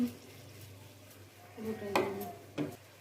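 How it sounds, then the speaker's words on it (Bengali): A spoon stirs potatoes into spiced masala in a cooking pot, soft scraping and a few metallic clinks against the pot rising over a gentle background sizzle, with no clear talk. "এখন ভালো করে নাড়িয়ে নিই"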